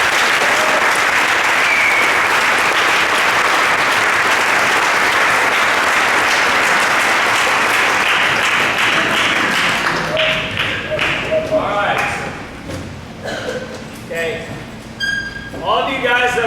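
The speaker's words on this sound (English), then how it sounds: "Let's give them a big round of applause." Big round of applause from a banquet audience at the 2023 Mediapolis football banquet honoring the players, loud dense clapping for about ten seconds that thins into scattered claps and murmuring crowd noise.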